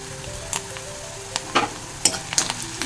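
Asafoetida sizzling in hot oil while cooking raw banana with coconut, a soft frying crackle with a few sharp pops and spatters over a low steady hiss.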